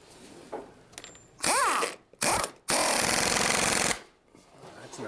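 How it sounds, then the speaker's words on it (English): An impact wrench drives bolts into a new load-bearing beam in a shingle-style home, firing three loud, close rattling bursts, the last and longest lasting over a second, with quiet gaps between them. "You got your impact wrench?"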